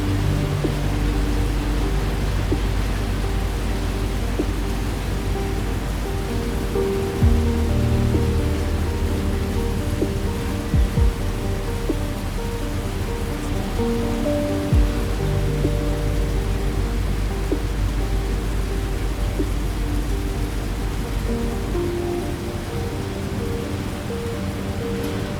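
Steady rain during a thunderstorm, heard from inside a British steam train carriage at night, a constant dense hiss with a low rumble underneath and a few faint clicks, heard without talk.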